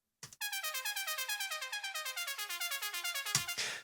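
A second auto-panned synth pluck preset from reFX Nexus repeats quick, bright, even plucks in a stepping melodic pattern, with a thump at the start and a noisy hit near the end. Clear and alone, with no voices.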